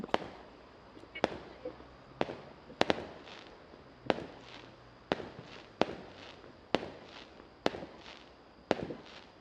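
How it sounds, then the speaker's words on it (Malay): Fireworks pop and crackle in distant bursts during Hari Raya in Selangor, roughly one every second or so, each followed by faint crackling, over a quiet outdoor background. "Ada orang yang bunga api ni."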